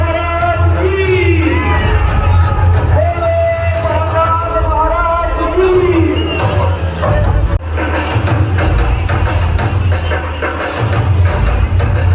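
A dense crowd fills a Ganpati pandal darshan queue in Mumbai, a loud continuous hubbub of many voices with occasional shouts and bangs and a sung or chanted voice rising above it early on.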